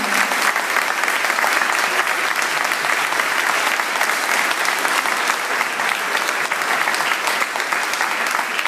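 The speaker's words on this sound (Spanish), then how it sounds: "a que por favor un aplauso enorme" Sustained, dense audience applause for the Coro Maestro Kubik, a choir of the Sociedad Friulana, filling the hall steadily and loudly from start to finish with no talk over it.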